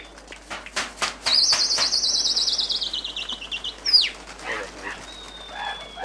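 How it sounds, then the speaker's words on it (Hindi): Caged pigeons are close by. Bright chirps and a long warbling whistle sound among them, with sharp calls and faint distant barking behind, and no voices. "इन पिंजरों में बैठे हुए हैं कबूतर।"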